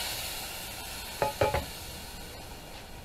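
Burger patties sizzle in a pan with a soft, even frying hiss, broken by a few quick clinks of a utensil against the cookware near the middle.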